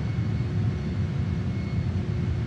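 A JAS-39 Gripen jet in Microsoft Flight Simulator, its engine a steady, close, low broadband roar that holds at an even level with no clear change.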